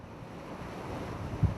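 High sea waves and wind around a ship at sea give a steady, broad rushing roar with a low thump near the end, with no voices.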